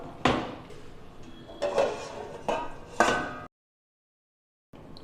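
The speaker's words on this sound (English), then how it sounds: "So here let's open the pressure cooker." Metal clanks and knocks from opening a pressure cooker of cooked Rakthashali red rice kanji: several sharp bumps and rattles in a row, then a brief silence and one more faint knock.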